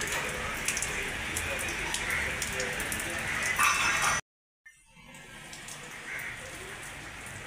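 Heavy rain pours down steadily outside a home, a dense hiss of drops on surfaces, briefly cut off and then resuming slightly softer, with a voice speaking over it.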